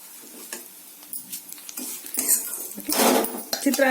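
Spoon scraping curd rice out of a pot onto a plate, a series of irregular metallic clinks and scrapes that grow louder toward the end, close by with no talk.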